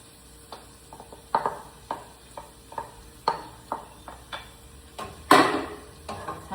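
A utensil scraping and clacking in a frying pan while stirring tomatoes, at irregular intervals, each stroke brief and close, with a faint sizzle underneath.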